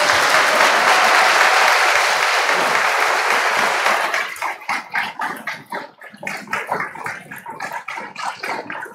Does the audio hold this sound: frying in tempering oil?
no